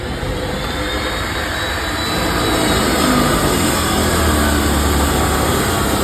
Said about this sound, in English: We're going to do it with our traditional bonded abrasive cutoff method.